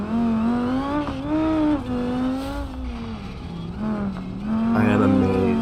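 Race car in the video game BeamNG.drive, its engine holding a steady tone that rises and falls with throttle and revs up near the end. Faint talk is heard under it.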